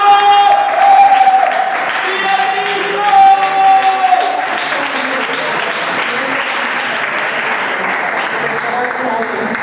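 A church congregation applauds during a sermon, a broad wash of clapping with some crowd voices and a sustained tone underneath, continuing at an even level throughout.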